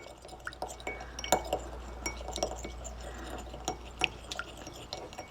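Melted butter and vanilla are stirred in a glass, a utensil clinking and tapping against the sides in irregular bursts over a quiet background hum.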